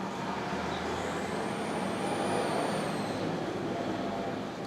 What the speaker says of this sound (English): I think it's a garbage truck outside or something out there.